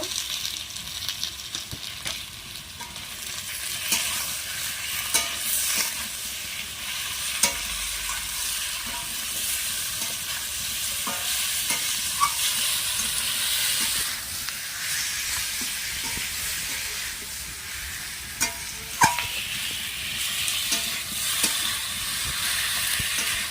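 Lightly fried papaya and potato sizzling in a pan as tomato, salt and turmeric are added, a loud steady frying hiss with intermittent stirring scrapes, close and alone.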